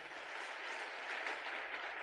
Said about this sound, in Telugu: నమ్మిన వాళ్ళు గట్టిగా చప్పట్లు కొడతారు.